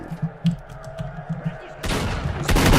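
Gunfire in S.T.A.L.K.E.R.: Shadow of Chernobyl, starting with a quick run of muffled shots and then breaking into loud, sharp bursts near the end, with someone talking under the firing.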